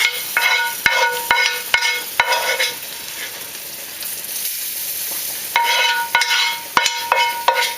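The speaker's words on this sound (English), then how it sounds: "You want to add it slow because it's going to spatter on you because you're putting really hot grease in there again." Very hot grease poured slowly into a pot of gumbo crackles and spatters loudly up close, in bursts with sharp clicks and stirring knocks, easing off midway before another loud sizzling burst.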